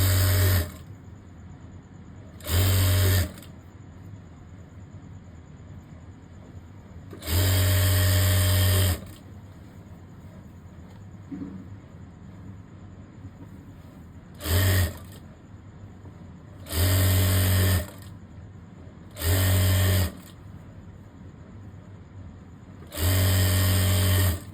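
Sewing machine stitching both sleeves of a boy's cord set, running in about seven short bursts of whirring, loud and near, separated by quiet pauses with no talk.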